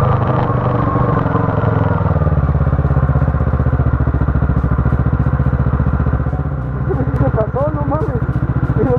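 A Yamaha R3 motorcycle engine runs loud and close with a steady throbbing idle that dips briefly, on a rough route, while someone talks over it.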